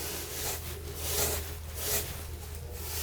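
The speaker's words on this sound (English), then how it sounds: "you can take a sponge and wipe the excess off" A sponge wipes excess grout off tile during a grout repair, giving soft, continuous rubbing strokes in slow swells, close and alone.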